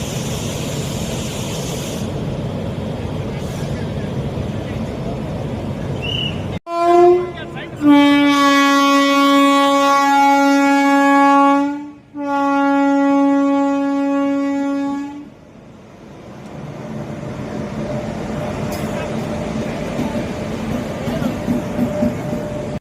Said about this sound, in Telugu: పచ్చ జెండా ఊపి తిరుపతి రక్సోల్ ఎక్స్ప్రెస్ ను ప్రారంభించారు